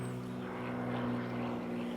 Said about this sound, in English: Look, boss, the plane.